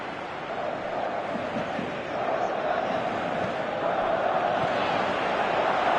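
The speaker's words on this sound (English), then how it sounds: "you can feel and hear how the crowd are reacting to all of this." A stadium crowd roars steadily in the PES 2018 football video game, a dense, even wash of noise that swells slightly toward the end.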